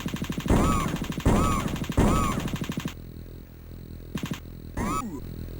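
Rapid bursts of gunfire from an Amiga alien-shooting video game, loud repeated volleys in the first three seconds, then quieter scattered shots and electronic effects over background game sound.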